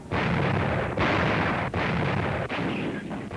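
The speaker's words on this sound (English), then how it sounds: "Right on time, the big guns fire." Massed artillery guns firing in a WWII battle, a dense, loud, continuous rumbling barrage with several brief dips in intensity, far-reaching and heavy with no talk.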